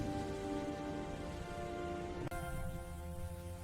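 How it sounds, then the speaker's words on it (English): Light rain of tiny drops patters steadily on a surface outdoors on a rainy day, a soft even hiss with no voices, dipping slightly in tone partway through. "it was just tiny raindrops"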